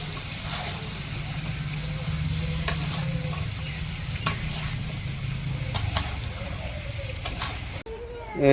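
Fish head curry (rohu) cooking in a village kitchen, a steady sizzle with scraping stir strokes and occasional utensil clicks running throughout, ending with a brief pause.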